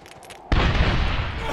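A frag grenade detonates in Medal of Honor (2010), a sudden loud broadband blast that erupts after a quiet moment and rolls on as a sustained roar.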